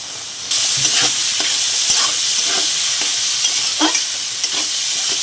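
Washed lentils hit a hot pot of red chilli and turmeric for Gobindobhog rice khichuri, setting off a loud, steady sizzle and hiss. Occasional scrapes of stirring break through the sizzle.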